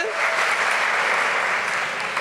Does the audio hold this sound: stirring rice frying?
no